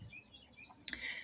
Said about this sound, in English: it's a mad blue jay. Really mad.